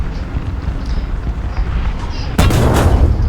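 Soviet APHE tank shells firing and striking in War Thunder, a tank combat game: steady battle rumble through the first stretch, then a loud, sharp boom near the end followed by crackling debris and ringing.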